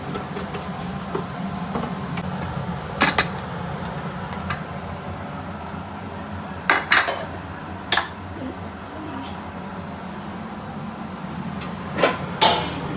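Pots and dishes being dropped into a kitchen sink: several sharp metallic clanks at scattered moments over a steady low room hum, with no talking.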